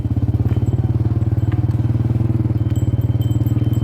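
A motorcycle ridden along the way to a market, its engine putting out a steady, fast-pulsing drone that stays close and loud throughout with no voices.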